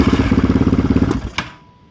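A Yamaha Raptor 660R ATV engine under overhaul is cranked on choke. It gives a close, rapid run of thumping pulses for about a second, then dies with a single clank, followed by quiet.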